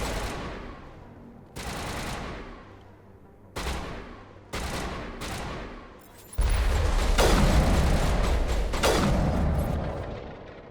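Video game gunfire comes in loud bursts: several separate volleys with short gaps between them, then a longer sustained barrage of rapid shots and booming impacts near the end.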